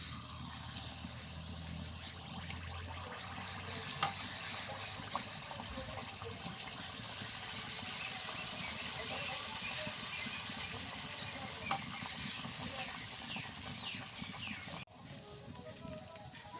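Malpua batter frying in hot oil for a pua pitha recipe, a steady broadband hiss and bubbling sizzle that stays even throughout, with a small clatter near the end.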